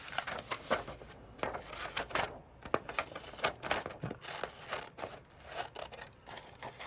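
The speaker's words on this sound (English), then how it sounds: "So I'm gonna go ahead and cut this paper out." Scissors cut through a sheet of paper for an art journal page, making a run of quick, close, crisp snips and rustling paper scrapes with no talk over them.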